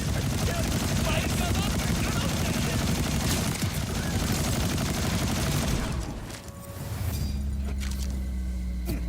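Sustained gunfire in the video game Borderlands 4, a dense continuous barrage of rapid shots with a brief lull before the shooting resumes, loud and close.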